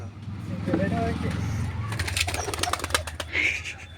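Pigeons at a home loft where birds are being sold coo and flap their wings, with a steady low hum underneath and sharp bursts of wingbeats in the second half; a person talks over the sounds.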